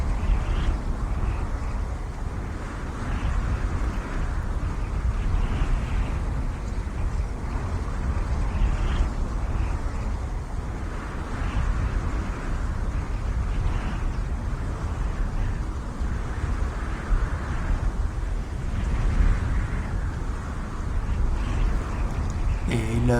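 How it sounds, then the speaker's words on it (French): Wind blowing across a high, exposed landscape in the VR game Brink Traveler, a steady broadband rush with gentle swells that runs continuously without pause. "Et le vent me convainc, j'ai vraiment l'impression d'avoir entendu quelque chose de très similaire"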